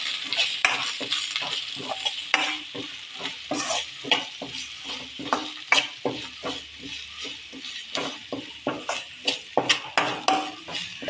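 Onions with salt stir-fry in a pan for Gobi Manchurian, with a soft steady sizzle under repeated scraping and clinking of a spoon against the pan, fairly quiet throughout.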